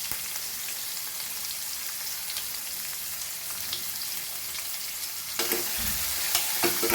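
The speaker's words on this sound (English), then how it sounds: "onion, and fry this very nicely" Onion frying in a pan for Goan suran bhaji, elephant foot yam curry, crackles in a steady sizzle close by, with a louder burst of stirring and scraping near the end.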